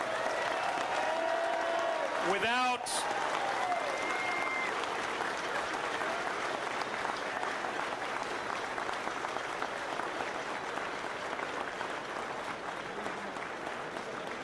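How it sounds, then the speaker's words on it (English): A crowd at an Honor Flight Columbus event claps in a big, sustained round of applause for volunteers and guardians, with a brief whistle early on, the clapping steady and dense under a speaker's voice. "So I need a big round of applause for all of the volunteers and the guardians."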